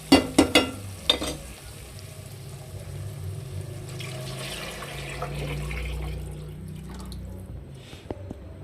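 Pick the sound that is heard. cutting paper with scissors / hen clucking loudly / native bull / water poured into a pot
water poured into a pot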